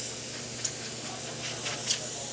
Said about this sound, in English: As you can see, nice steam coming out through the machine.